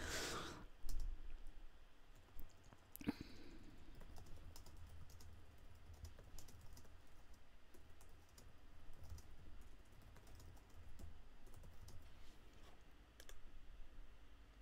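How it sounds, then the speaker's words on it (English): Fast, faint clicking of keys on a computer keyboard during an online tank-game tournament, steady bursts of tapping carrying on for many seconds with no voices. "Sorry, I'm just typing right now"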